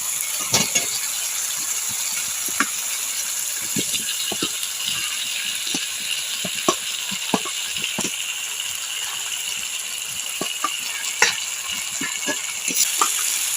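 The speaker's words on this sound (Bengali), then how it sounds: "এবার আমি সবজিগুলো দিয়ে দেব।" Vegetables for shukto frying in a spice mix in a pan, a steady close sizzle broken by irregular clicks and scrapes of a spatula, no talk.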